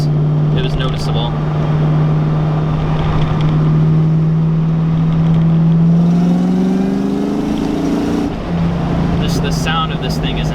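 A 500whp Terminator Cobra engine drones while driving, its rumble rising as the revs climb, then dropping back, loud and continuous throughout.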